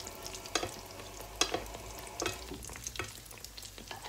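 Beignets made without eggs, milk or butter fry in a pan of hot oil while oil is spooned over them, giving a steady low sizzle broken by a few sharp scraping clinks of the spoon.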